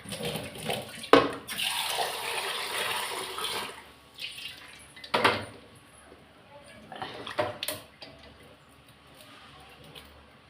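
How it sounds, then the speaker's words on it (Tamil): Water splashes and pours in bursts, like a pot being emptied into a sink, with running water and brief clattering between quieter moments. "தண்ணி கீழே ஊற்றிட்டு வரேன்"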